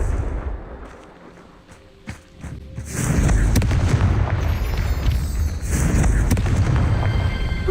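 The explosive Confringo spell blasts in the video game Hogwarts Legacy, a loud booming burst that swells into a sustained rumbling roar of detonation close up, after a quieter lead-in with a faint thump.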